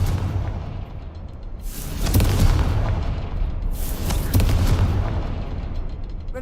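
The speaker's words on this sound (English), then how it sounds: "Confringo." Two heavy booming blasts of the Confringo fire spell in Hogwarts Legacy, each a loud rumbling explosion swelling and fading over a second or so, separated by a low ambient drone.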